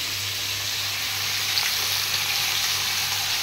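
Green chillies hit hot oil in a frying pan on top of a curry seasoned with salt and turmeric, setting off a steady, close sizzle that holds evenly throughout with no talking.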